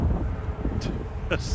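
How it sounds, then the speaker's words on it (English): A sudden heavy gust buffets the microphone outdoors while plane spotting at Manchester Airport, a deep rumbling roar that swamps the scene as people talk. "mega wind. Sudden. All of the wind all at once."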